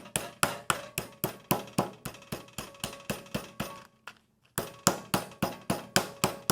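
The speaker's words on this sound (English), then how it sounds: "pound this fillet down and get it as flat as I can without tearing it up" A meat mallet pounds a catfish fillet flat in quick, regular thuds, about three per second, with a short pause near the middle before the steady pounding resumes, close and loud.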